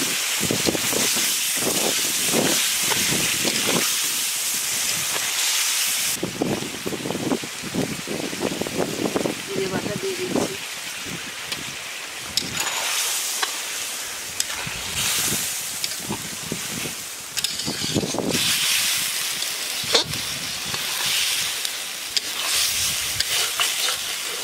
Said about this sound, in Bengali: 1 কিলো পটল দিয়ে দিচ্ছি। তেমন একটু জল দিচ্ছি,